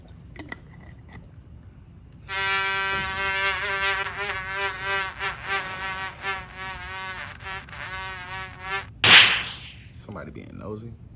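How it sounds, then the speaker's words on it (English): A small fly buzzes close by in a steady whining drone with a harmonic hum that wavers as it circles, running several seconds before a brief sharp noise cuts it off. "Whenever you see like a little fly buzzing around."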